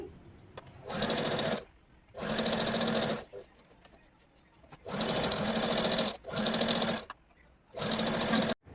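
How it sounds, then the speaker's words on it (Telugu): An electric sewing machine stitches lining cloth around the edge of blouse fabric in five loud bursts of rapid whirring. Short quiet pauses separate the bursts. "తర్వాత మెయిన్ క్లాత్ చుట్టూ లైనింగ్ క్లాత్ని అటాచ్ చేసుకుంటూ వెళ్ళిపోవాలి ఎక్కడ ముడతలు లేకుండా జాగ్రత్తగా స్టిచ్ చేసుకోవాలి"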